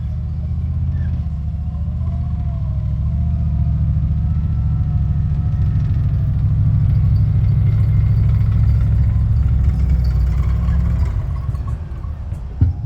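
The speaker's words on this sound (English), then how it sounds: "The Hunter will now take up its position to pick up the soldiers" A Hunter armoured fighting vehicle's engine rumbles steadily as it moves into position at a firepower demonstration, a deep, continuous drone that holds throughout and eases slightly near the end.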